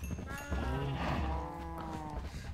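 Cows in the video game Minecraft give several drawn-out, overlapping moos and low bleating calls, close and fairly loud over a busy game background with no talking.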